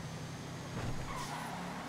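A race car in the GTA FiveM racing game locks its brakes with no ABS and skids, a sustained tire screech over steady engine noise, alone and loud.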